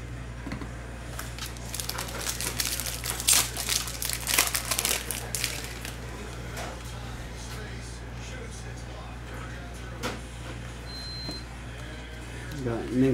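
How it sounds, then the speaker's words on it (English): A 2021 Mosaic football hobby trading card pack is torn open with close crinkling and crackling foil wrapper noises, mostly early on, as a voice talks throughout. "let's print and rip"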